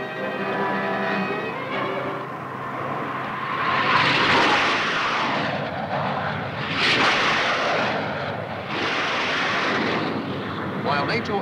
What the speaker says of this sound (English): Aircraft are on their way to attack deep in the enemy homeland and to cripple his lines of supply